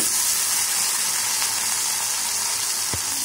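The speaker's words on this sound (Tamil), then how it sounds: "தக்காளி சேர்த்து நல்லா வதக்கிக்கலாம்." Chopped tomatoes sautéing in hot oil with carrots and beans for hotel-style rava kichadi, a steady close sizzle and hiss with faint stirring scrapes throughout, no talking.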